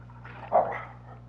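A dog gives a single short bark in the middle, slightly muffled and moderately close, over a low steady background hum.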